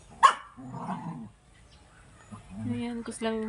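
A dog gives a sharp bark, followed by whining, whimpering sounds and another yelp, close by with some background noise.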